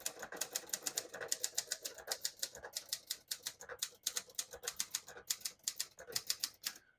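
Rapid typing on a 1979 Hermes 3000 portable typewriter, close crisp mechanical keystrikes in quick irregular bursts with brief pauses, no voices.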